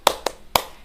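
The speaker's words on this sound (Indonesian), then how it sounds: "Mana tepuk jempolnya, teman-teman, untuk Fauzia?" Three sharp, close hand claps from a classroom 'tepuk jempol' rhythmic clap, spaced unevenly in under a second with nothing else audible.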